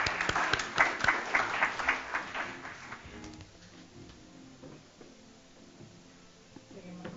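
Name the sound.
audience applause for the ambassador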